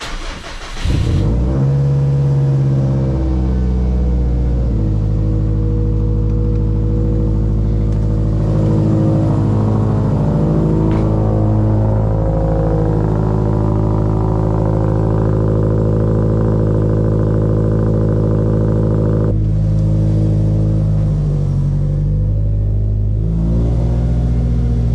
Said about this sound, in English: This is my Subaru STI.